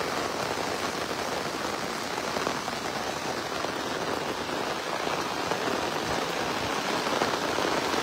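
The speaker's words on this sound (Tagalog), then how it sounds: "Lakas ang ulan." Heavy rain pours steadily over a muddy farm field, a dense, unbroken hiss that stays loud and even with no voices.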